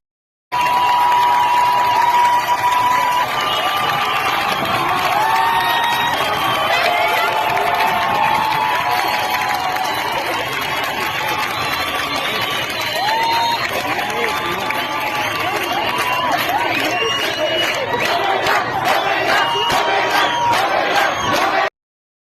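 A street crowd in Kerman, Iran reacts to a woman with loud, continuous shouting, whoops and cheering voices, a dense roar that carries through the whole stretch.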